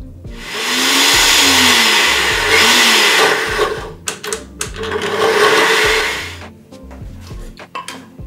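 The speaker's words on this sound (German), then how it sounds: "Das macht ja der Mixer gleich alles klein." A kitchen blender chops cod and pollock fillets into a fish dough, its motor roaring loud and steady for several seconds, dropping into sputtering, choppy bursts, then surging again before stopping.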